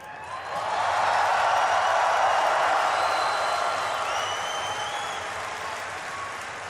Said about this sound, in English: I want everyone here to give a big cheer to all of your friends watching at home.